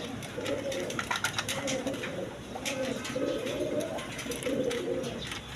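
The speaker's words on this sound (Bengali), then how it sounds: "এখানে এক পেয়ার তিন পট্টি লাল গিয়ার ডেনিস কবুতর আছে" A pair of red three-bar Denis pigeons coo in repeated soft, rolling phrases close by, with faint rustling and clicks around them.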